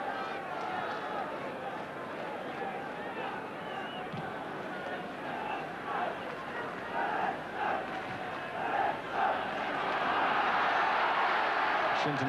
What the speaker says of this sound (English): And on this winter afternoon, the crowd coming to life.